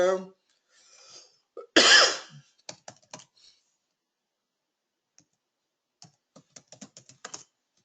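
Keys clicking on a computer keyboard in short bursts of typing, quiet and close, with a cough and throat noises earlier and long silent gaps between keystrokes.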